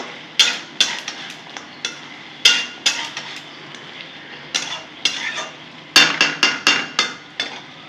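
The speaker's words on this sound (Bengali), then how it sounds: "নেড়ে চেড়ে নেব।" Metal spoon stirring and scraping a pan of papaya curry with pea lentil fritters, a series of sharp close clinks and knocks in irregular bursts with faint sizzling between them.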